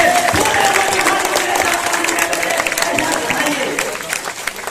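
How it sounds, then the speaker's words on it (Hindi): Audience applause welcoming guests at an honour ceremony in a village in Begusarai, Bihar, a broad steady round of clapping at moderate loudness that eases slightly toward the end, with voices heard under it. "आप तमाम लोगों से चाहेंगे सर्वप्रथम ताली के गड़गड़ाहट से इनका स्वागत करें"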